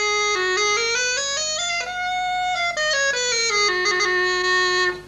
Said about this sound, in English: That's the sound of the chanter by itself.